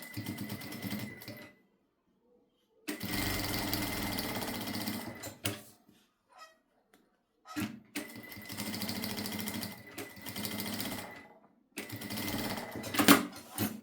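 A sewing machine stitches a safety seam along fabric in three loud, rapid bursts of whirring, separated by quiet pauses and light handling clicks, close by.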